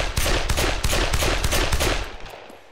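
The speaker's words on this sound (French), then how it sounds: "des tirs consécutifs" Rapid consecutive gunfire from a weapon in the video game Arma 3, roughly a dozen sharp shots in a steady fast rhythm, loud and close, trailing off near the end.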